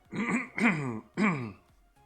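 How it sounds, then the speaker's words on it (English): Three rough, throaty clearing sounds in close succession, near and fairly quiet, each a short rasping burst. "Clear my throat a little bit."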